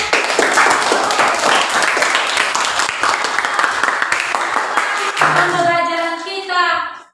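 Classroom clapping from students at the close of a school lesson, brisk and fairly loud for about five seconds, then giving way to a voice speaking.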